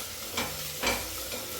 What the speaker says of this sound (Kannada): ಇವಾಗ ಶುಂಠಿ ಬೆಳ್ಳುಳ್ಳಿ ಪೇಸ್ಟು ಹಸಿ ವಾಸನೆ ಹೋಗೋ ತನಕ ಫ್ರೈ ಮಾಡಬೇಕು